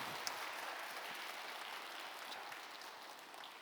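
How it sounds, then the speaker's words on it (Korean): A church congregation applauding at a daytime service, a steady, dense wash of clapping that holds at an even level throughout without speech. "옆 사람에게 박수 쳐도 부족할 땐 다시 한번 크게 박수하세요."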